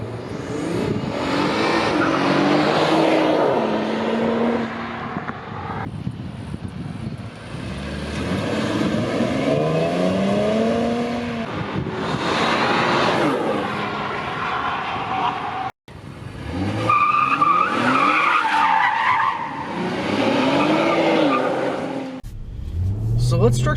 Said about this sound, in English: going out for a quick drive on the handling loop here in Charleston, South Carolina